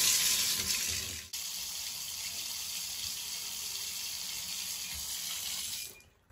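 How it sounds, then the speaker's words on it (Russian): A thermostatic mixer tap runs as a steady rushing hiss of water. It carries on evenly for several seconds, then tails off as the flow is shut. "Открываю воду."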